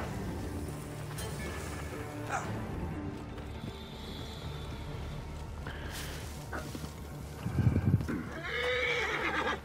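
A horse whinnies loudly in Assassin's Creed Origins amid hoof clip-clops and a dense layer of game ambience and effects, the neigh standing out near the end.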